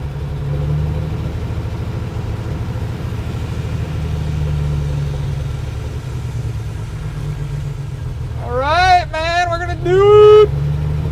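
An old Plymouth car engine running for the first time in 30 years idles with a steady low, throbbing drone, then a few short bursts of revving rise and fall near the end.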